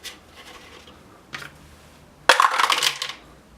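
Two HeroQuest combat dice rolled for a dwarf's attack clatter across a tabletop in a short, bright burst of rattling impacts, preceded by a couple of faint handling knocks and followed by quiet.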